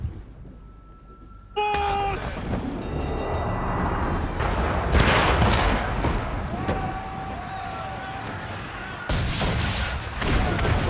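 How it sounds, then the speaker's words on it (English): Dull, booming mortar impacts in a video game, a low rumbling barrage rolling on steadily after a sharp onset, with faint tonal game sounds and little speech. "Can't tell where the fucking mortars are coming down."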